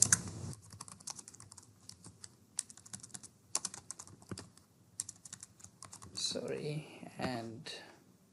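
Close, rapid clicking of a computer keyboard as a site name is typed in Civil 3D, in uneven bursts, with a brief different sound near the end.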